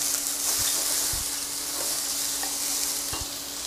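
Vegetables and chili fry in vegetable oil over medium heat, giving a steady bright sizzle with a few soft stirring knocks, close and continuous with no talk.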